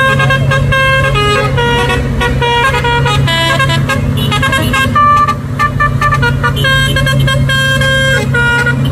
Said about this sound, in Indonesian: Terolet truk.